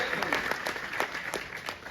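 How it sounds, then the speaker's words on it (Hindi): Audience members at a Hindi humorous poetry gathering (hasya kavi sammelan) clap together, a short burst of scattered, moderately loud handclaps with a faint murmur of voices. "एक बार सब मिलकर तालियां बजा के बताइए कि आप सब सुनना चाहते हैं।"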